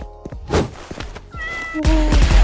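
Cartoonish cat meows from a cat character in the shooting game Cat Gun, a few short mews mixed with thuds and gunfire-like thumps, ending in a louder burst of game effects.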